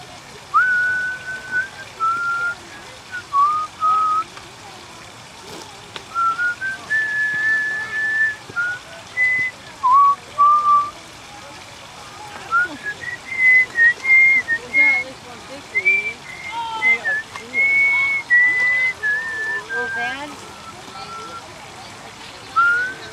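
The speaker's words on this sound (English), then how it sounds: "Just for those who are wondering what I was whistling" Someone whistles a light tune in short phrases over a constant hiss of a rushing waterfall at a zoo.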